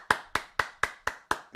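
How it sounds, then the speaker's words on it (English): A canned clapping sound effect on a talk show, seven sharp, evenly spaced claps in quick succession, crisp and close with no other sound. "Can we get the clapping sound?"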